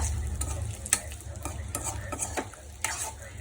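Chicken in schezwan sauce is stirred in a frying pan for street-style egg chicken fried rice, with close, rhythmic scraping strokes over a continuous sizzle.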